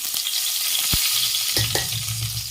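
Steady crackling sizzle of mustard seeds and curry leaves hitting hot oil, with a sharp pop and a stirring clatter partway through, close up and continuous.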